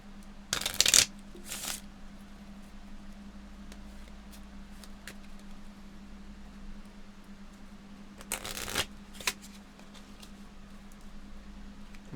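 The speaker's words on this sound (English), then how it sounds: "I'm shuffling a deck of cards." A deck of playing cards is shuffled in two quick riffling bursts, one near the start and one later, separated by a long quiet stretch over a steady low hum.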